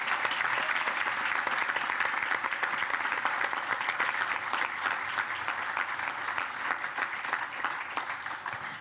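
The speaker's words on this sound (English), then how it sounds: "Let's have a round of applause for Class" Dense, continuous applause from the audience at a police and jail bureau graduation ceremony, loud and even for the whole stretch, easing slightly at the end.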